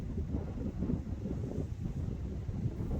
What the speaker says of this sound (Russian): Крепкий ветер гудит в ушах